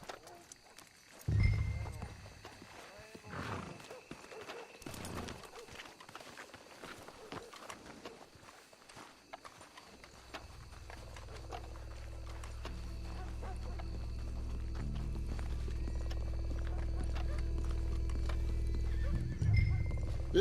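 Horses in Red Dead Redemption 2 clip-clop along at a walk with scattered hoof falls, and one loud, close whinny stands out early, while a low rumbling ambience builds steadily underneath.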